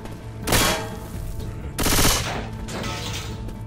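Bursts of rapid automatic gunfire from Left 4 Dead 2, two loud volleys with a lingering rattle between them, heard over a low game background.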